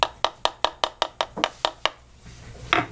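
A stiffened, nearly dry leather sheath is handled up close, giving a rapid, evenly spaced run of about nine crisp clicking creaks, then a short pause and a softer rustle.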